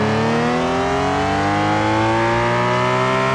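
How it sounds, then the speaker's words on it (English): A BMW M3 E46 engine in a Need for Speed Most Wanted mod revs steadily upward, a loud, continuous harmonic drone with a synthetic airbox tone and no voices. "I can hear the synthetic airbox sound."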